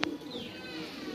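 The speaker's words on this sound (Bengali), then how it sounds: "এটা দেখেন নতুন কবুতর দেখছে, হেভি ডাক মারতেছে দেখেন।" A newly acquired white pigeon coos loudly close by, a short throaty call following a brief sharp click, with faint background noise.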